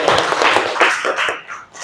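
A classroom group applauds together, a dense wash of many hands clapping close by for under two seconds, with scattered voices mixed in and the clapping thinning toward the end.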